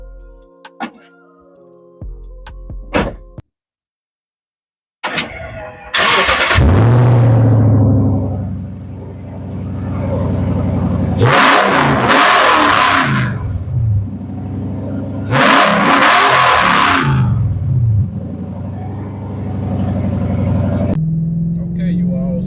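Toyota Tundra truck with an upgraded throttle body cranks and starts, then revs loudly several times in strong surges over a rumbling idle, close by, after some brief clicks and a short pause.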